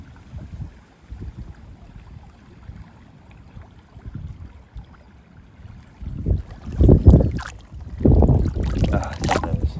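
Gusty wind buffets the microphone, low rumbling at first and then stronger roaring gusts toward the end, with no speech.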